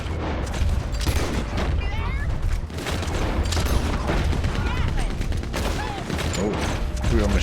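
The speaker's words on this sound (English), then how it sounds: "Oh, we got a machine gunner." Machine gun fire in the Western video game Red Dead Redemption 2: dense, sustained bursts and booms of a heavy gun battle filling the whole stretch, with in-game character voices shouting over the din.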